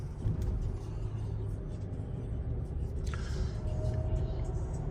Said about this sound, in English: Traffic is starting to kick in now.